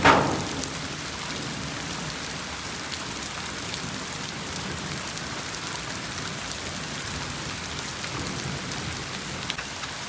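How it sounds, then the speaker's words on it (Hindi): Large hailstones or heavy wet snow pelting down in dangerous weather, a dense continuous hiss of impacts with scattered sharper hits, loud and close throughout, no voices. "बड़ी बड़ी जो बर्फ़ आके गिर रही है"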